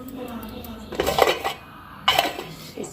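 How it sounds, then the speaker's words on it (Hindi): Metal pots and dishes being set down during a village Diwali puja setup, making two loud clattering bursts of clanking metal, close by, separated by a short pause. "इसमें रखने के लिए मैंने यहीं पर ला के रख दिए बर्तन"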